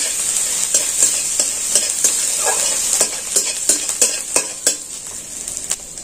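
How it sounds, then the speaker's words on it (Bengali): Ginger paste sizzles in hot oil in a wok while a spoon scrapes and taps against the metal in an irregular rhythm, close and fairly loud, with no voices. "এটাকে একটু অল্প করে ভেজে নেব"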